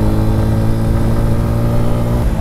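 A 2023 Bajaj Pulsar N150 motorcycle exhaust burbles with a steady, deep, throbbing rumble, close and loud, holding an even idle-like pace throughout.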